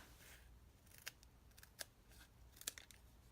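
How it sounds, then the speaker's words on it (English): Scissors snipping paper for a handmade craft card, a handful of quick, crisp cuts at irregular intervals over faint room hush, close by and quiet with no voices. "So I'm going to hold it in my fingers while I cut."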